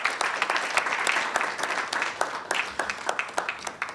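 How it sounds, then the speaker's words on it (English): Steady audience applause at a live NSMQ 2021 national quiz competition launch event, many hands clapping at once in a dense, even patter, moderately distant, with a faint voice underneath. "Once again, a round of applause for Mr. Cyril Nye."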